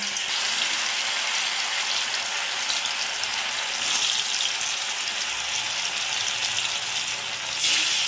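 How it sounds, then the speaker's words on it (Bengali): Lentil dhoka cakes fry in white oil in a kadai, giving a dense, continuous bubbling sizzle that stays loud and close for the whole stretch, with no voices. "এগুলোকে আমি এবার সাদা তেলে ভালো করে ভেজে নেব, লাল লাল করে"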